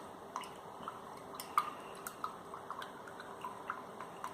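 Skin serum made with vegetable glycerin stirred in a small container: faint, soft liquid clicks and light taps from the utensil in an irregular rhythm, quiet and close.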